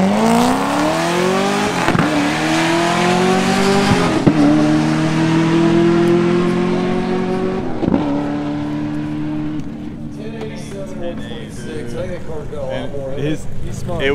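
A race car with a dual two-inch pipe exhaust accelerates hard at Houston Raceway, its loud engine note climbing through several rising gear pulls with abrupt shift breaks, then fading into the distance as people talk nearby.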